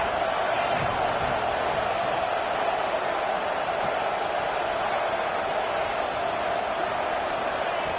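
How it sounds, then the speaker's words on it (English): A college football stadium crowd at an Ohio State versus Minnesota game roars steadily on a third down, a dense, even wash of noise. Commentary talk runs faintly underneath. "and the crowd really getting into it."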